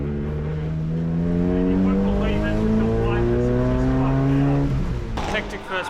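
A Nissan N15 Pulsar race car on track at Sydney Motorsport Park, its engine note climbing steadily through a gear and then dropping off as the driver lifts, loud and close throughout.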